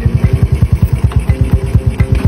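Euro 125 motorcycle engine idling close by, a quick, even chugging pulse of low thumps repeating steadily for a couple of seconds.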